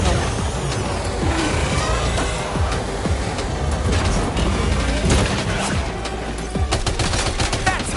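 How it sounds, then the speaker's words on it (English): Vehicle combat in Death Stranding 2, a car ramming an enemy vehicle amid a dense, loud, continuous roar of engines, impacts and rapid gunfire-like bursts throughout. "Sam, try ramming their vehicle with yours."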